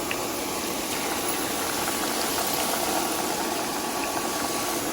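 Tornado potato spirals deep-frying in a pan of oil give off a steady, unbroken bubbling hiss that stays at an even loudness throughout, with no voices.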